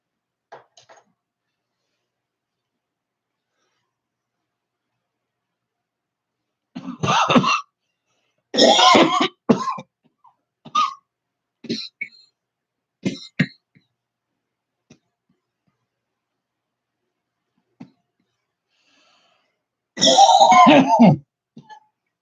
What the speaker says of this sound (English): I think I'm through coughing now.